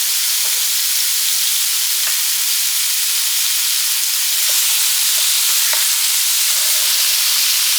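Partly frozen hamburger meat frying in a pan with a small amount of oil, giving a loud, steady sizzle with faint occasional pops and clicks throughout.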